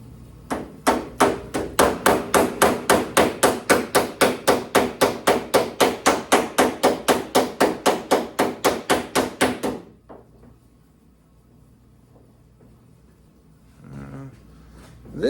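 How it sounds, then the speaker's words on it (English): Steady, rapid blows of a lighter hammer on a 1969 GTO Judge sheet metal trunk deck, around thirty evenly spaced strikes with a bright ringing edge, then they stop and near silence follows. "Come back and fine tune with a lighter hammer."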